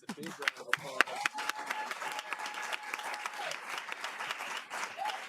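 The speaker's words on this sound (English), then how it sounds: "Let's give both of these candidates a big round of applause." Audience applause at a South Burlington Democrats primary forum for state senate and governor candidates, a steady wash of clapping from a room crowd, with sharp claps near the start and voices carrying over it.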